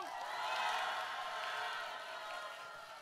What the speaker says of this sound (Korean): 자, 지금보다 두 배로 박수와 함성!